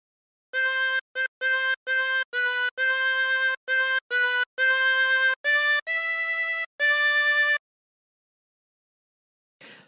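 A harmonica plays a melody as a string of sustained, reedy notes with short gaps between them, clear and solo, ending in silence.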